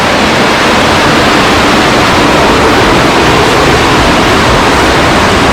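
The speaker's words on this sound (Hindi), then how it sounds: "वाटरफॉल का शोर बहुत है यहाँ।" Elephant Falls in Shillong roars as a loud, continuous broadband rush of falling water, steady and close throughout with no voices.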